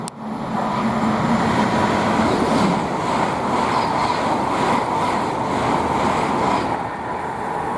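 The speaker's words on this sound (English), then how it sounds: "We've got 802-104 heading from Weston-super-Mare to London Paddington." Train 802-104, running from Weston-super-Mare to London Paddington, passes at Goring & Streatley on the Great Western Main Line with a loud, sustained rushing roar that holds steady for several seconds.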